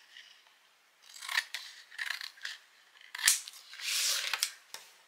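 Scissors cutting paper for a children's game decoration, a series of crisp close snips and slicing strokes in irregular bursts, with no talk.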